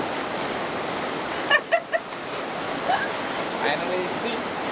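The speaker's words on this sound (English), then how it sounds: "I got sun, I got beach, I can listen to the waves." Steady wash of ocean surf on a sunny beach on Weh Island, Indonesia, a continuous near roar with a few brief sharp sounds and faint voices over it.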